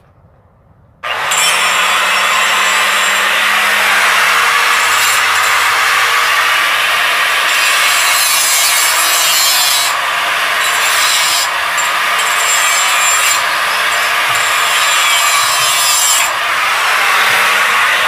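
Power tool cutting a metal part for a homemade wind generator, a steady loud grinding whine starting after a second of quiet and running continuously with slight shifts in pitch.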